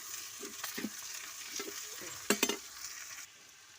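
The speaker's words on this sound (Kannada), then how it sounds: "ನೋಡಿರಿ, ಪಲ್ಯ ಒಗ್ಗರಣೆ ಹಾಕಿದೆ." A hot tempering sizzles in a pan for a vegetable palya, with stirring scrapes and a few sharp clinks of a spoon against the pot over a soft, continuous frying hiss.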